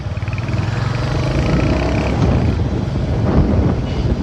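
A Royal Enfield Continental GT650 rides in first gear, its engine a steady low drone mixed with wind rush on the microphone, fairly loud and continuous with no talking.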